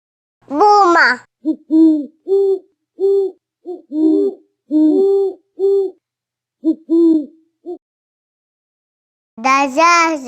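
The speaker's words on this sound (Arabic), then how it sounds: "بومة." An owl hooting in a rhythmic series of short, soft low hoots, about a dozen spaced in an uneven pattern, with a voice speaking briefly at the start and end.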